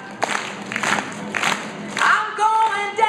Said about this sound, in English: Everybody can clap.